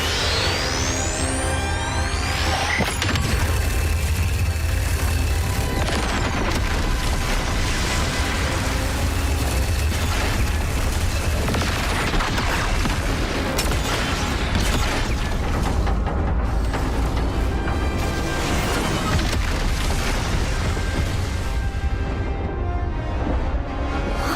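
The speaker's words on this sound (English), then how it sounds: "I'm a firing my laser." Sci-fi laser weapon fire in the video game Xenoblade Chronicles 3: Future Redeemed, a loud, dense, continuous blast of energy with heavy booming impacts, sustained for the whole stretch over layered game sound.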